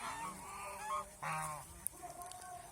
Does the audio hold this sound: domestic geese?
yes